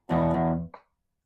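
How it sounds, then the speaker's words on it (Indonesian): An electric guitar played through a distortion effect while recording, one thick sustained chord ringing for about half a second before being cut off, followed by a brief scratchy note and then silence. "Ya pindah distorsi dulu ininya."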